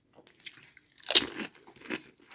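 A single loud, close crunch as crisp fuchka shells are bitten and cracked open, followed by softer chewing and faint crackles over a couple of seconds.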